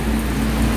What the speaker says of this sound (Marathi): इथं बघा किती पाऊस सारखा चालू आहे रात्रंदिवस